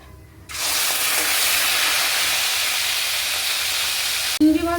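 Prawns hit hot oil seasoned with salt and turmeric, setting off a sudden loud, steady sizzle that holds for about four seconds before a clatter cuts it off.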